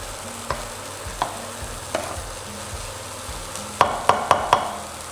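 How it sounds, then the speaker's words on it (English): Sliced mushrooms fry with onions and garlic in a pan for a creamy mushroom sauce, a steady close sizzle broken by a few scraping stirs and a quick run of utensil taps near the end. "So the mushrooms are blending really well with the onions and garlic"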